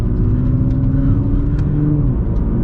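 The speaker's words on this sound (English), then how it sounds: "you can hear how loud this car is in terms of its engine drone" A loud, steady engine drone from a Nissan GT-R with a deep low rumble and faint whine, holding constant from near the microphone with no voices.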